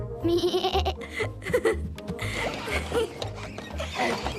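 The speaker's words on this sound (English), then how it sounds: "It's time for the goats to go back to the barn." Goats bleat repeatedly as they head back to the barn, several calls close and clear over a busy background of hoofbeats and clatter.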